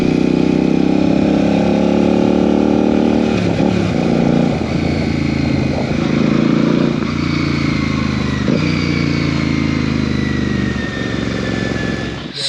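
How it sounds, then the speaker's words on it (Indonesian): A Royal Enfield Classic 650 fitted with an aftermarket, deeper-toned exhaust idles and revs steadily, a loud, continuous throbbing engine note with slight rises in throttle, heard up close without talk. "knalpotnya sudah diganti menjadi yang lebih ngebass, dan hasilnya tentu suaranya menjadi cukup berkarakter"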